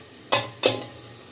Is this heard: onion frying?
yes